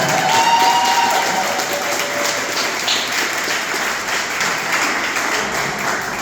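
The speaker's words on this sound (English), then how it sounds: "Come on, give them another big round of applause." Wedding guests applaud steadily, a dense wash of clapping and a few cheers that holds at full strength throughout without talk.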